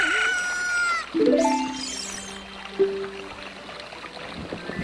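A chicken in the video game Zelda: Ocarina of Time gives a short burst of bright, rising electronic chirps and a crowing call, followed by a sustained tone, heard alone against a quiet game background.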